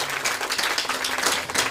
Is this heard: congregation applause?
yes